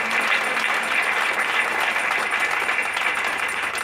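A church congregation at a Friday night revival service applauds for Jesus, a dense, steady wash of clapping filling the room for several seconds with no clear voices.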